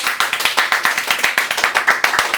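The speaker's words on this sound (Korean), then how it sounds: "박수!" A small group clapping in a welcome round of applause, quick steady hand claps close by, lasting a couple of seconds with no voices over it.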